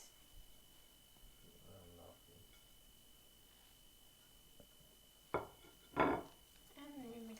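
Shredded beef stirred into thick wheat porridge in a pot for Persian haleem: quiet scraping with a few sharp utensil clanks against the pot near the end, under a speaking voice.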